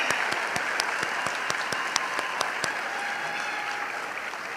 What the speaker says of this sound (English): Everyone can please applause.